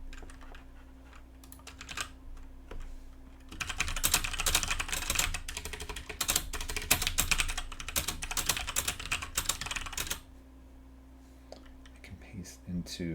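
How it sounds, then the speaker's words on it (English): Rapid typing on a computer keyboard rattles loudly and close for several seconds, a dense run of clicking keystrokes, with quieter scattered key taps before and after while someone talks. "It looks like the keyboard's really loud on stream."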